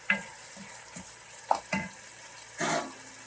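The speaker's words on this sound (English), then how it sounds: "a generous helping of freshly minced garlic" Freshly minced garlic frying in a pan, with a few short stirring scrapes and soft sizzling bursts spread over a few seconds, capped by a longer sizzle near the end.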